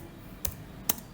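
A few isolated computer keyboard keystrokes while coding an ASP.NET button click event, two soft close clicks spaced about half a second apart over a quiet room.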